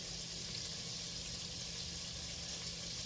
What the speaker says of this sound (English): If you're hearing some sizzle, I'm frying some wings too.